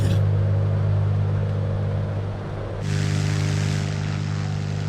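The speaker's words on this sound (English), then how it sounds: "Those engines do not sound very good." Twin piston engines of a Carenado PA44 Seminole in a flight simulator game drone at a steady, loud, continuous level, with a tonal hum and a slight shift in pitch partway through, and no talking.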